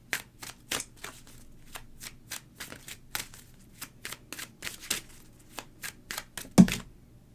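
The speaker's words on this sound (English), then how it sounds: "Last but not least, we will pull a Tree Keeper's Oracle card." Tree Keeper's Oracle cards are shuffled in a long run of quick, crisp riffling flicks, steady and close, ending in one louder slap, with no voices.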